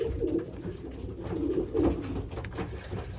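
Pigeons coo close by inside a breeding loft, low rolling calls repeating over a few seconds, with no talking.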